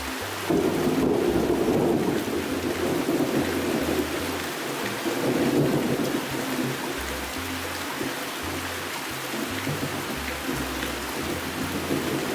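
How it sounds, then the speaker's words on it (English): Heavy rain hammers down during an evening storm at a lodge in Costa Rica, a dense steady roar with deep rolling thunder that swells and fades again and again underneath, all without talk. "The hammering rain was accompanied by rolling thunder and sheet and forked lightning."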